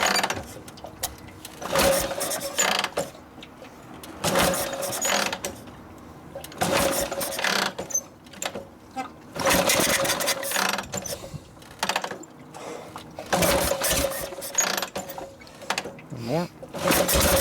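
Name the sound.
1952 Harley-Davidson Panhead motorcycle engine being kick-started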